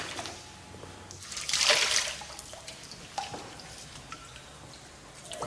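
Spring water trickling and dripping from the rock at Petra, a faint ongoing trickle with scattered drips and one brief louder splash, in quiet surroundings.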